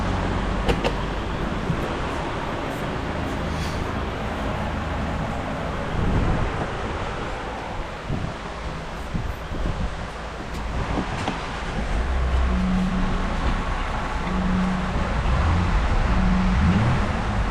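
A salvage 2024 Lincoln Aviator with a 3.0L turbo engine runs nearby, a low steady rumble with faint turbo whistle under wind and outdoor noise, and a few brief clunks.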